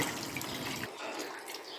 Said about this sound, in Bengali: এখন আমি পরিমাণ মতো জল দিয়ে দিলাম